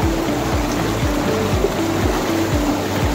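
Fast, cold river water at Kaladhungi rushes past in a continuous loud broadband wash, close by, with a low repeating mechanical thump and tone riding underneath.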